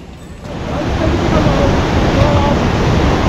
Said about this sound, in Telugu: మందాకిని నది మనకి పలకరిస్తూనే ఉంటుంది